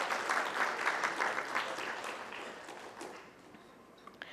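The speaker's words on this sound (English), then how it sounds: "A round of applause for this one as well." Conference audience at the ISUW 2025 inauguration applauds in a large hall, a broad wash of many clapping hands that fades out over a few seconds.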